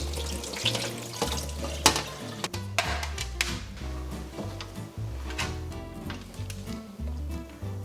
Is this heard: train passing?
no